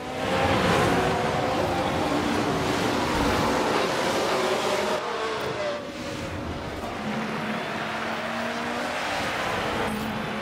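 Simulated Formula 1 race cars launching from the grid at the start of the Mexico City Grand Prix in F1 Manager 23, a loud, dense wall of engine roar with rising tones sustained throughout, a voice talking over it.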